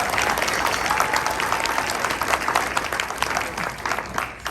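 Town hall audience applauding, a dense burst of clapping from a crowded room that holds steady and then begins to fade, with a few voices mixed in.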